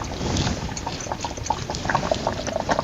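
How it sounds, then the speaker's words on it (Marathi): Sambar in a clay pot, set aside off the heat, keeps boiling, with a steady close bubbling and popping that carries on without pause and no voices. "मातीचा भांडा असल्यामुळं ना आपण बाजूला ठेवलं तरी पण तसंच आहे ना उकळ येत राहते"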